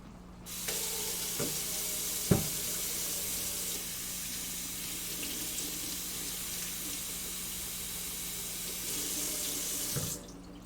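Salad greens being washed under a running sink tap: a loud, continuous water stream that starts after a brief pause, with a couple of light clunks, then cuts off near the end.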